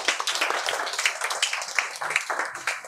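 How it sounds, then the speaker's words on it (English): Scattered clapping from a small audience at an English debate on nature versus humans, uneven and moderately loud, with individual claps standing out. "Please give a clap for you."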